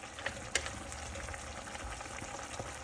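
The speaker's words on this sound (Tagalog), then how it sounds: "Hintayin lang natin siya na kumulo ng kumulo." Food simmers in a cooking pot, giving a faint, steady bubbling and crackling hiss with occasional soft pops, heard quietly on its own.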